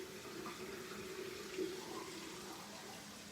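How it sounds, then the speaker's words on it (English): Hot water runs steadily from a kitchen tap as a faint, continuous wash of flow. It is quiet and even throughout, with no voices. "I've already got the water kind of heated up from the tap."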